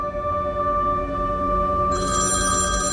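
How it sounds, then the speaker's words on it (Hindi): A mobile phone left at home rings with a steady electronic ringtone that continues throughout and grows brighter partway through, with no talking. "अरीबा की कॉल"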